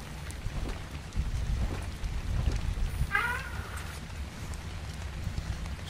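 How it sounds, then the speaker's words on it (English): Steady rain falls in the video game ARK, a dense, even hiss that holds for several seconds with a brief higher cry-like sound partway through. "It's raining. It's called rain."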